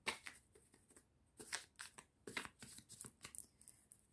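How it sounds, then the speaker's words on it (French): Playing cards are shuffled and drawn quietly up close, a run of quick papery riffles and snaps in short irregular bursts with brief pauses between them. "Alors, je vais prendre quelques cartes."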